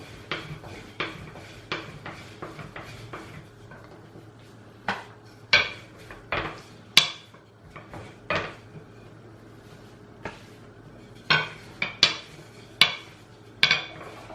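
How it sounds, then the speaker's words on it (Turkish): Lavash dough rolled out with a rolling pin on a board, giving a series of irregular wooden knocks and clatters as the pin turns and taps, some spaced apart and some in quick clusters, with no talking. "İster oklavayla ister merdane ile açabilirsiniz. Şöyle çevire çevire açıyorum."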